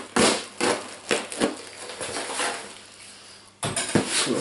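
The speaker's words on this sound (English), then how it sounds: "so got my little envelope knife, let's get it open" An envelope knife slitting open a well-packed envelope, with a loud scrape and crinkle, then a sustained rough tearing, and a few sharp paper rustles and clinks close by.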